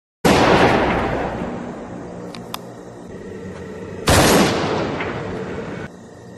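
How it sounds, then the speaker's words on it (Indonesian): Two loud gunshots fired upward from a handgun in a tense standoff scene from the 2022 Indonesian action film Ben & Jody, each a sharp blast followed by a long ringing decay, spaced about four seconds apart with no talk. "Jody terlihat menembakkan sebuah senjata ke atas untuk menghentikan aksi dari Kang Tubir."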